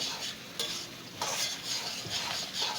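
Chopped onion, coriander and green chilli being mixed and squeezed by hand for onion fritters, giving moist rustling and squishing in soft repeated bursts close by, with no talk.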